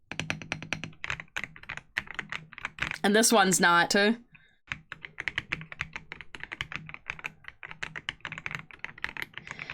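A thocky mechanical keyboard being typed on in a steady run of close, quick keystrokes, with a brief burst of talking partway through.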